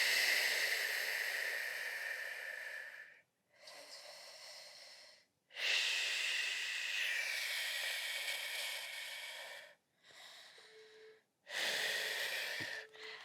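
Slow, deep breathing during a pelvic floor relaxation exercise, close and airy, in long hissing inhales and exhales separated by brief pauses.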